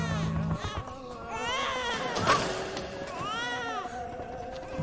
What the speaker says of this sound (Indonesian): Tangisan bayi yang kencang mengundang perhatian orang-orang yang berada di dalam gedung.